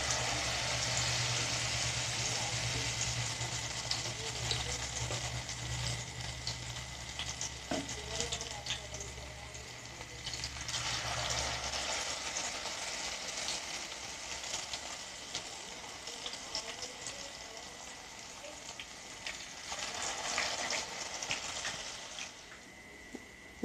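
Battered food dropped into hot oil fries with a loud, continuous bubbling sizzle up close. It crackles steadily throughout, with a low hum underneath during the first half.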